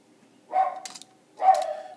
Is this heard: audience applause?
no